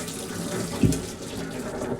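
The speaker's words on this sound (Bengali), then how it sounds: "এর মধ্যে দিয়ে আমি জলটাকে ছেঁকে নেব।" Hot water from boiled thecha noodles pours into a metal strainer plate, a short splashing gush that swells briefly in the middle and then settles into a soft trickle.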